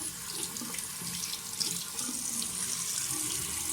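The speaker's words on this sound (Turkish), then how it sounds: "Böyle eliyle su içiyor" Tap water running steadily into a sink while a cat drinks from the flow with its paw, a close, continuous splashing stream with small irregular spatters.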